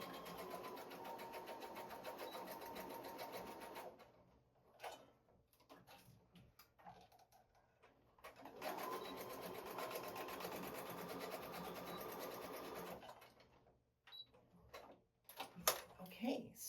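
A sewing machine runs in two long bursts of steady, fast stitching through fabric, each lasting several seconds, separated by pauses filled with light handling clicks and a quiet voice.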